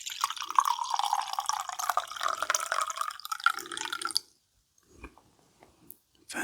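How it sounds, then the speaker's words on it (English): Tea is poured into a cup with a continuous bright liquid stream for about four seconds, then stops, followed by a few faint drips and soft clinks in near silence. "I need to pour myself a cup of tea"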